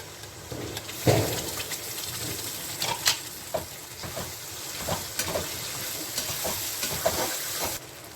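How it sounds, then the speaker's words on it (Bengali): Homemade spice masala is tipped into chana masala frying in a pan and stirred, a constant sizzle broken by repeated scraping strokes of a spoon against the pan, close and moderately loud, with no voices. "আর যে মশলাটা আমি করেছি এখন ওই মশলাটাকে আমি দিয়ে দিচ্ছি।"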